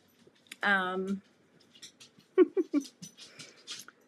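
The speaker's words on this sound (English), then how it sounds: "my dogs are making noise again" Dogs indoors give a drawn-out whimpering whine followed by several short yips and snuffling noises, close and fairly loud in an otherwise quiet room.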